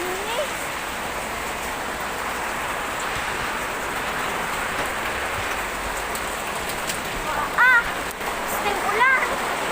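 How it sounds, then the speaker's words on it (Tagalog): Heavy rain pours down as a continuous roaring wash, loud and steady throughout, with a couple of brief sharper sounds toward the end and possible faint voices in the background. "Lakas ng ulan."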